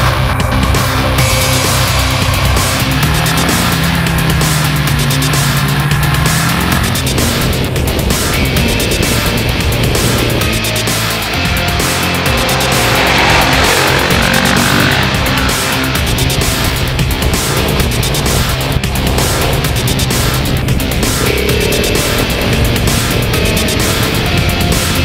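A KTM SMC 690 motorcycle laps a go-kart track, its engine roaring continuously and loudly as it rises and falls through the revs, with no one talking.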